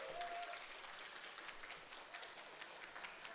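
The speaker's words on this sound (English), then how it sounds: "Everyone's clapping for Rio, who is joining us here today." Faint audience clapping at a Force of Will trading card game festival, a soft, even patter of many hands heard from some distance in a large hall.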